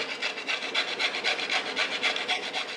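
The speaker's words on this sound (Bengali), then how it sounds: "আমি এই পেঁপেটার খোসাটা ছাড়িয়ে নিয়েছি, ছাড়িয়ে নিয়ে এটাকে কুড়িয়ে নেব" Peeled raw papaya is grated in steady back-and-forth strokes, a close rhythmic rasping scrape repeating about three times a second without pause.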